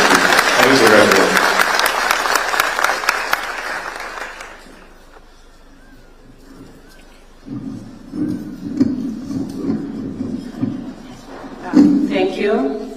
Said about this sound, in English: Students, why don't we welcome her with a warm clap to begin our speech.